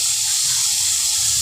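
White pomfret frying in oil in a pan just after being flipped, a steady loud close sizzle with no break.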